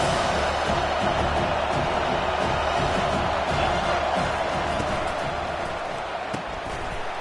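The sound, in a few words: football stadium crowd cheering on third down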